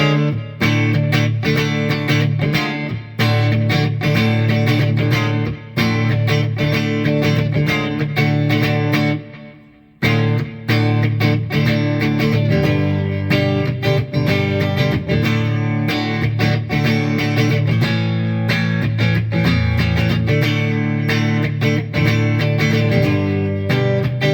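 A G&L G-200 electric guitar with a clean tone plays through a Viper X2 amp, sustained chords and picked notes ringing loud and continuous, with one brief pause near the middle.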